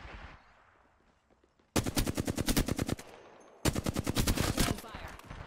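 Two loud, rapid bursts of automatic gunfire aimed at the player in the Apex Legends battle royale game, each lasting about a second with sharp evenly spaced shots, separated by a quieter pause with fading ambience.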